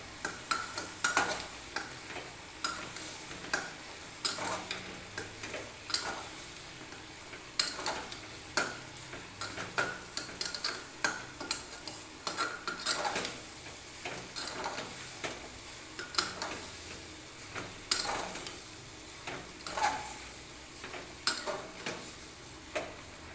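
A vegetarian mix of soybean chunks, papaya and potato is sautéed in a pan under a soft continuous sizzle. A spatula stirs it in repeated scraping, clicking strokes that come every second or so for over twenty seconds.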